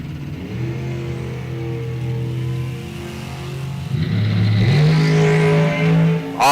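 Drag race cars launch off the start line at an ET bracket race, engines droning steadily before a sudden loud surge of revving that climbs in pitch as the cars pull away.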